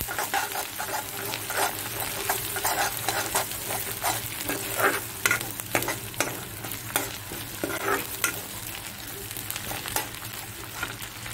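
Fish pieces frying in hot oil in a pan and being stirred, a steady close sizzle broken by repeated scraping and stirring strokes, with no talk.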